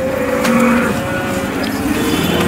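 A dairy cow gives a low, drawn-out moo close by, set against steady outdoor background noise at a cattle market in Modnimb, Maharashtra.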